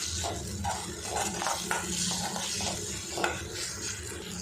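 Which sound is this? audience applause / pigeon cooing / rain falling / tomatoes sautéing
tomatoes sautéing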